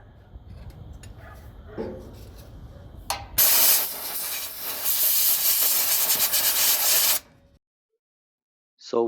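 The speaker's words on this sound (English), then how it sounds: "going to be using starting fluid to clean it out" Starting fluid and compressed air are sprayed to clean a NOx sensor on a Freightliner Cascadia truck, with a brief spurt followed by a long, loud, steady hiss that cuts off abruptly.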